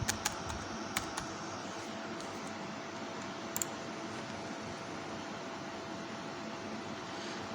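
Quick keystrokes on a computer keyboard, a few soft clicks near the start and again mid-way, faint against a steady hiss of room noise.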